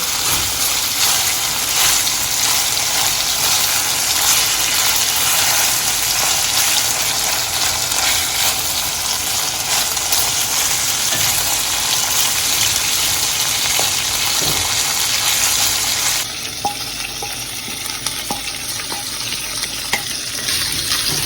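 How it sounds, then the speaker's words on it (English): Beef liver browns in a hot pan with a dense, steady hiss of frying that runs loud and unbroken, then shifts slightly in tone toward the end. "Don't boil the liver at all. Brown it on either side."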